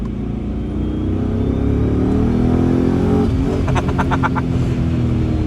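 A boosted Cadillac CTS-V accelerates hard with its tires spinning, the engine note loud and steadily climbing in a long continuous pull, with rapid clattering bursts breaking in near the end.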